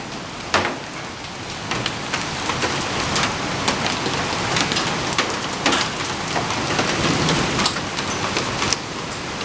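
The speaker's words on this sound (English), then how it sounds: "Got a hailstorm blowing through. Marble size hail." Marble-size hail and heavy rain pelt down steadily through a northeast Texas hailstorm, a dense hiss broken by sharp, scattered impacts, loud and close, with no voices.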